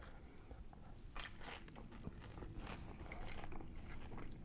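A bite into a thin, crunchy bacon chicken ranch pizza crust with a puffy edge, giving quiet close crackling crunches followed by soft chewing, no talking.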